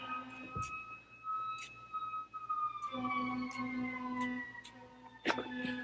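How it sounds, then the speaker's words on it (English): A fire truck siren wails, rising and falling steadily in the distance, joined by a second siren tone partway through, with a sharp clatter near the start and end. "sirens going off."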